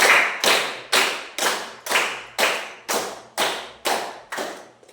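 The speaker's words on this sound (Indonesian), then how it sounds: "Tepuk satu kali. Tepuk dua kali" A group of people clap in unison on spoken cue, about ten sharp, evenly spaced claps that ring out loud and close in a room, each with a short decay.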